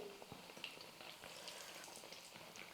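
Black-eyed pea (karamani) vada batter frying in hot oil, a soft steady bubbling sizzle with scattered tiny pops, faint and continuous without talk.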